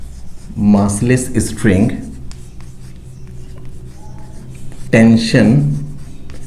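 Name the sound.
writing on a board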